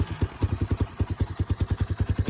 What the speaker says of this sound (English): this thing will sit here and idle and run all day perfectly